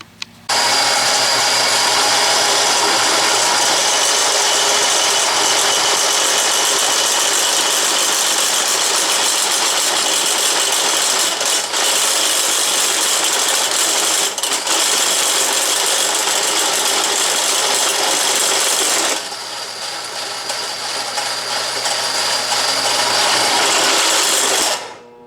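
Drill press with a pull gear driving a Silver and Deming bit, a loud, continuous mechanical whir and grinding rattle that briefly eases near the end before picking up again.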